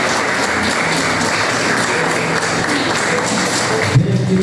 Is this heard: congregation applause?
yes